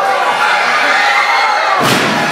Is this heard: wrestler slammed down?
yes